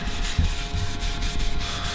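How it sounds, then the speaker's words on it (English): Abrasive sanding on a custom-stained guitar body with a maple burl top: a steady, close, dry rubbing hiss that runs continuously, with a few low thumps of the sander against the wood. "We'll come back with 4 coats of sanding sealer."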